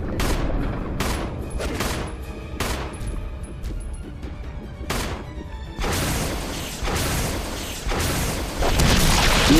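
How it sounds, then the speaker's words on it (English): A rocket launcher fires point blank in the Resident Evil HD video game, booming over and over in heavy, loud bursts that blend into a continuous roar of explosions and gunfire. "we'll take the rocket launcher. Let's equip it. Just freaking fire it point blank at him."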